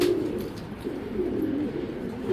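Steady low cooing of a black checker dragon racing pigeon fills the clip, a continuous throaty burble close to the microphone with no talking.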